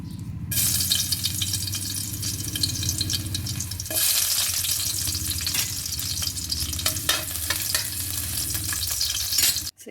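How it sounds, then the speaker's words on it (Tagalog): Onion, garlic, tomato and pork cubes sauté in a pan, a loud steady sizzle with stirring scrapes throughout and a brief pause near the start, no voices. "ayan magigisa na tayo"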